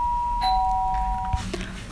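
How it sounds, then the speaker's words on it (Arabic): A doorbell gives a single clear two-tone electronic chime indoors, ringing alone and close with a brief faint thump as it fades. "جرس الباب"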